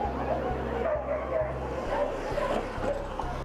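Dogs at a border wall bark at suspected drug smugglers, sounding as repeated, fairly regular barks over a busy, noisy background with murmuring voices.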